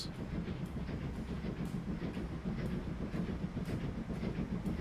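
LNER A4 Silver Jubilee passenger train in the Transport Fever 2 game running at speed, a steady rumbling roll with rhythmic clickety-clack of wheels over rail joints, moderately loud and continuous with no talk.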